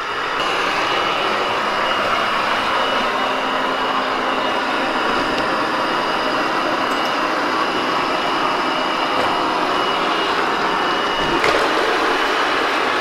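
A SwitchBot K10+ mini robot vacuum cleans a floor, giving off a steady, near whirring hum with a faint airy hiss that holds unchanged throughout, with a few small clicks and no voices.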